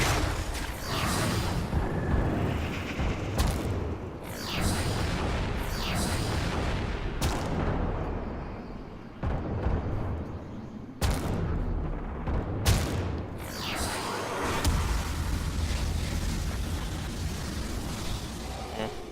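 Repeated heavy, booming weapon blasts from the Redeemer Prime in a video game, loud and continuous with sharp bursts throughout, layered over a dense rumbling game soundtrack and effects.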